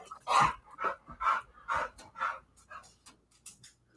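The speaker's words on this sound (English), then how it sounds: "He's a dog, Kate." A dog indoors at home barks and pants in an excited run of about five bursts, fairly close, then trails off into quieter breathing and faint sounds.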